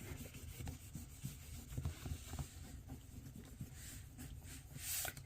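A sticker is burnished down onto a paper journal page with soft, close rubbing strokes, quiet scratchy friction sounds in uneven bursts.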